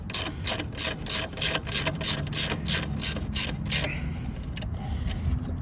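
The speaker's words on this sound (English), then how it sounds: "Then tighten it with your trusty 10mm socket, driver, ratchet" Ratchet with a 10mm socket tightening a battery terminal nut on a 2007 Mini Cooper, giving a steady series of rapid, even clicks up close that stop partway through, with background noise and no talking.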